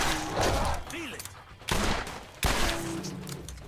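Gunfire from a gun in the video game Borderlands, a few sharp loud shots with abrupt onsets, the middle and last ones strongest, amid game effects and tonal chirps.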